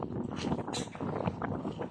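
Gusty wind by the sea buffets the microphone in a continuous rough rumble, with faint voices mixed underneath.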